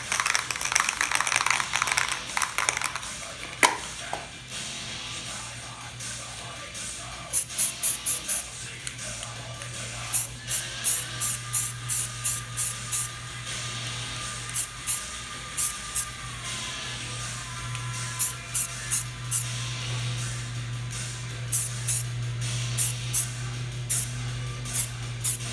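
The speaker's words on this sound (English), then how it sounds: "So we're gonna shoot some filler primer on it" Filler primer sprayed from a can onto a guitar body with a filled humbucker cavity: a run of short, sharp hissing bursts in quick clusters over a steady low hum.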